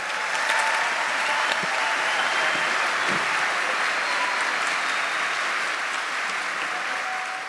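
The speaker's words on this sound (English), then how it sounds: "put your hands together, applause please, for Ismael Sandoval" Dense, steady applause from a large concert audience at an evening event with a symphony orchestra and mariachi band, sustained and full for the whole stretch with no voices on top.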